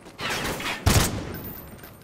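Gunfire in Call of Duty Ghosts rings out as one sharp, loud shot over a rumbling backdrop of distant battle noise that fades afterward.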